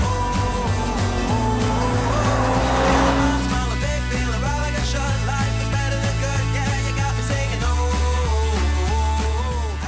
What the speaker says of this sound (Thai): สำหรับสเตชันนี้ก็ได้ลองความแรงของ Mercedes AMG